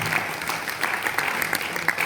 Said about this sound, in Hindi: बैठे हैं सामने, तालियां बजा दो भैया जोरदार